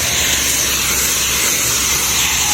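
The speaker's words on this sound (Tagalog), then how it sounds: "Ganyan lang naman mag-spray, mabilis lang naman." Insecticide mist is sprayed onto a string bean crop in the field, a loud continuous hiss from the sprayer with no breaks, close to the ear.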